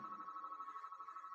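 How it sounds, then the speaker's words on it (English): A telephone rings somewhere in the background, a faint, steady electronic tone that pulses gently and is heard alone with no talk over it. "Miss Matrix phone was ringing in the background."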